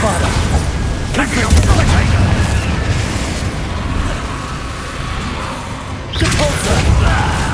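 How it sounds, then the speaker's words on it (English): Bombarda spell detonations in Hogwarts Legacy, loud game booms and crashes, with one hit near the start and a burst again near the end over rumbling background, with a voice talking at times. "Bombarda!"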